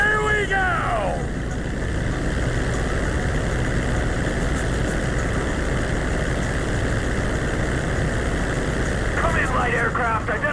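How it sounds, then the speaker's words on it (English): A light crop-dusting propeller plane in Grand Theft Auto V, its engine droning steady and loud throughout, with brief radio-style voice sweeps at the start and end. "Come in, light aircraft."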